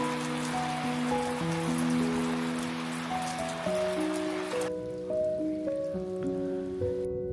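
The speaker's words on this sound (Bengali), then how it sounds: "বৃষ্টিটা অনেকটা থেমেছে," Steady rain falls in a Himalayan village, a constant broadband patter, while sustained tonal music-like hums run underneath throughout.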